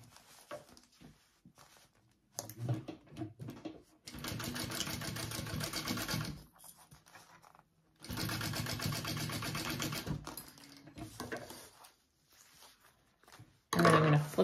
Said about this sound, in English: I'm going to baste this on first before I sew on the lining.